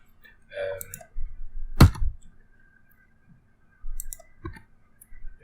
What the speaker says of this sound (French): je clique dans la case et j'appuie sur supprimer avec mon clavier